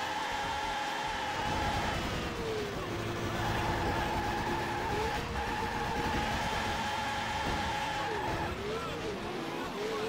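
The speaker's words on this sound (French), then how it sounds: "Et j'ai la voiture qui part." F1 racing car in the Dreamcast game F1 World Grand Prix spinning off, a steady engine whine with pitch dips and wavering tones as it slides, under continuous French commentary.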